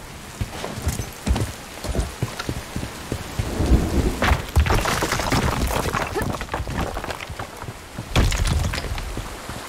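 Rain and thunder in a video game: steady heavy rainfall patters on surfaces while deep rolling thunder swells in the middle and again near the end, with no speech.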